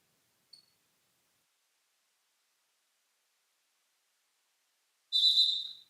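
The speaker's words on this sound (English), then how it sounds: "And we have ourselves a whistle before the serve." A referee's whistle at a college volleyball match sounds as a single bright, fairly loud blast near the end, after near silence with one tiny tick.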